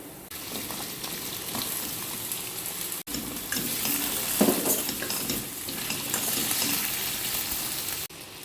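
Potato pieces fry and sizzle in a pan with ginger and chillies, a steady loud hiss with stirring scrapes, briefly cut off twice, for an aloo fry dish.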